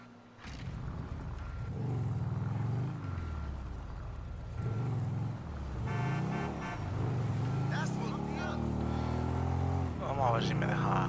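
A motorcycle belonging to The Lost gang in GTA V Online revs and rumbles continuously close by, its engine pitch rising and falling, while someone talks over it throughout.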